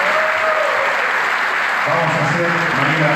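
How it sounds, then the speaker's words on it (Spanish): A packed theatre audience at a concert applauds steadily in a dense wash of clapping, while a voice speaks over it toward the end. "para que pida un fuerte aplauso."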